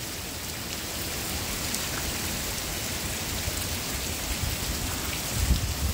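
Steady rain pouring down on a hillside property in winter, a dense, even hiss of drops hitting surfaces close by, with a slight low rumble near the end.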